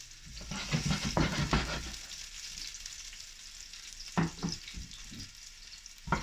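Chopped onions sizzle and spit in olive oil over medium-high heat in a holiday dinner pan, with a busy crackle and spoon stirs at the start, a quieter stretch, and then another burst of stirring near the end.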